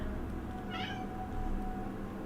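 Pet cat Star gives a short meow midway through, faint and a little distant over a steady low background hum, with no talking.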